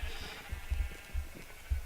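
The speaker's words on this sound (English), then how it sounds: "here we have sheep" Minecraft sheep bleat in a short burst of low, throaty pulses, four or so evenly spaced calls over a steady hiss, with no talking.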